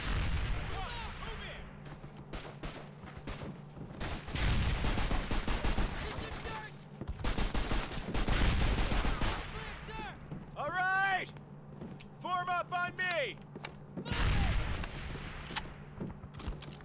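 Gunfire in the WWII shooter Call of Duty 2: Big Red One, with dense bursts of rifle and machine-gun fire and booming blasts, while soldiers shout orders over the loud battle.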